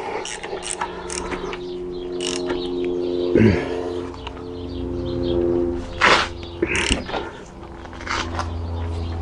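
Wrench tightening a bolt on a Chrysler PT Cruiser front suspension control arm, with a few short metallic ratchet creaks and clicks over a steady low hum and background noise.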